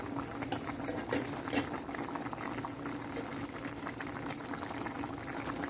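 Carrots and potatoes boil in a pot with a continuous, fairly quiet bubbling and gurgling that holds steady throughout; no one speaks.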